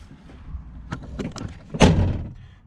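The door of a brown 1988 squarebody Suburban being closed after a door-gap adjustment: a few soft knocks and clicks, then one solid, fairly close slam with a short ringing tail.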